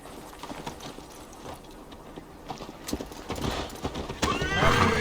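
In Assassin's Creed Valhalla a horse gallops with rapid rhythmic hoofbeats, and a loud neigh rises near the end over the growing clatter of the ride.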